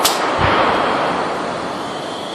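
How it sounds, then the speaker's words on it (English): A played-back recording of a tree falling in the woods: one sharp, loud crack at the start, a second heavy thump just after, then a long noisy rustling crash that slowly fades. "Let me play that very beginning where the tree falls again"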